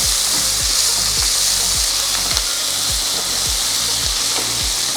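Sliced onions crackle and sizzle loudly in hot oil with mustard seeds and cumin for a yam fry, a steady dense hiss with repeated low scraping thumps from stirring.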